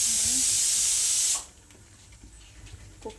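Steam hisses loudly and steadily from a kitchen pressure cooker for over a second, then cuts off abruptly, leaving a quiet room with faint light clinks and soft background sounds.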